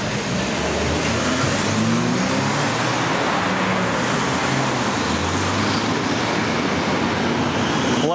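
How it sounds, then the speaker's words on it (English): Steady, continuous car traffic rolls along Nevsky Prospect, a wide city avenue, with a dense, unbroken road rumble and passing engines close by throughout, with no voices. "Lots of cars."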